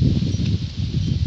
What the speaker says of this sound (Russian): У нас сегодня ветер.